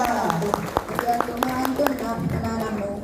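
Scattered hand claps from an audience at a Quran recitation graduation ceremony at a TPQ, sounding as sharp, separate slaps under continuous talking voices.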